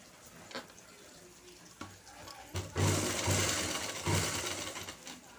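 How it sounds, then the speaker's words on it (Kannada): A sewing machine runs a double line of stitching along the seam of a top, sounding in a few short, close motor bursts separated by brief pauses. "next double stitch ಹಾಕಿಬಿಡ್ತೇನೆ"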